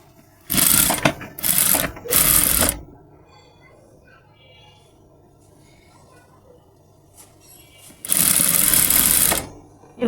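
Short bursts of a sewing machine run close by as it tacks lace onto the hem of a salwar leg: three quick runs, a quiet pause with faint handling, then one longer run.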